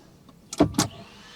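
A Tesla Model 3 power window whirs briefly in two quick bursts with a squeak from rubbing on an adhesive strip, close by, against near silence.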